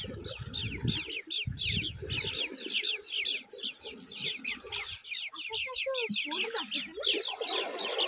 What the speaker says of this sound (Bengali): দেখো কত পাখির আওয়াজ।